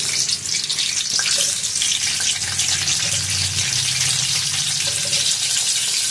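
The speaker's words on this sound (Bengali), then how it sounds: "আজকে আমি দেশি ফুলকপি দিয়ে করব ফুলকপি আর আলুটা বন্ধুরা ভালো করে ভেজে নেবো" Cauliflower and potato pieces fry in a pan for a vegetarian curry, making a steady, close hiss and sizzle throughout with faint clinks, and no voices.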